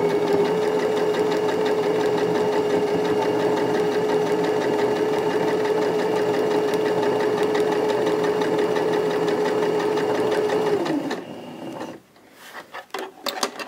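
A sewing machine stitches rag quilt squares in a fast, steady mechanical whir with a constant hum for about eleven seconds, then stops, followed by a few soft handling clicks and rustles.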